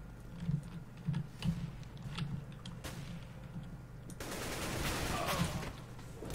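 Shotgun blasts and other gunfire pop through a video game match, a handful of sharp shots early on over low game noise, followed by a loud, rushing burst of action.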